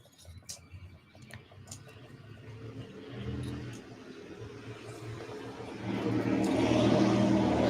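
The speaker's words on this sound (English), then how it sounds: "Loud car driving by." A loud car driving by outdoors, engine noise building steadily and swelling loudest near the end, with scattered ticking sounds early on.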